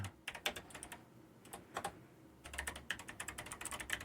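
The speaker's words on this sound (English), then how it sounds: "Awkwardly typing it." Quick, irregular clicking on a computer keyboard in a quiet room, with short bursts of keystrokes, a lull in the middle, then a denser, faster run of taps near the end.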